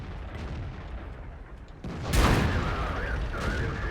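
A single heavy tank cannon shot booms in World of Tanks, rising out of low rumbling engine noise and leaving a long rolling echo afterward.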